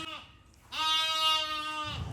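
A small-breed goat bleating loudly and close by, one short call followed by a long wavering bleat that runs on for over a second, alone without talk.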